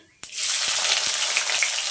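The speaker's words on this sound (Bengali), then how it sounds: "এখন পেঁয়াজ কুচিটা দিয়ে দিচ্ছি" Chopped onion drops into hot oil already tempered with whole spices, bursting into a loud, steady sizzle after a brief quiet start, with a few soft stirring knocks under the crackle.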